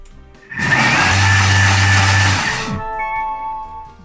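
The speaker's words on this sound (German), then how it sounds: "Und dann wieder das 15 Sekunden pürieren auf Stufe 8." A Thermomix whirs up into a loud, steady blend on speed 8, holding its high droning roar for about two seconds, then winding down to quiet.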